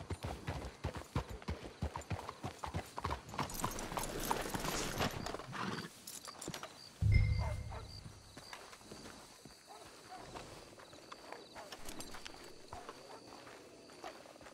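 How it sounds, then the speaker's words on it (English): Horses clip-clop along in Red Dead Redemption 2, a steady run of hoof knocks in the first half, with game music and other ambience behind and a louder thump partway through. "Let's hitch the horses up ahead."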